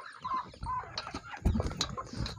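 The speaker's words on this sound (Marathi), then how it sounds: "तुम्ही बघू शकता कोंबड्या कशा भात खातात" Chickens clucking and pecking as they eat scattered rice on a poultry farm, with soft overlapping clucks and sharper pecks close by and no talk.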